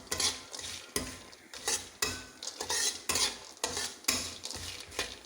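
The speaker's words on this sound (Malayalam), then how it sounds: "മൊത്തം അങ്ങ് ഒഴിച്ച് ഇളക്കിയെടുക്കാം. ആ നെയ്യും എല്ലാം കൂടെ അങ്ങ് യോജിപ്പിച്ച് ഇളക്കിയെടുക്കാം." Flattened rice (aval) is stirred with fried coconut and ghee in a pan, giving rhythmic scraping and clinking strokes of a spoon against metal, about a dozen bursts in quick succession, close and fairly quiet with no voices.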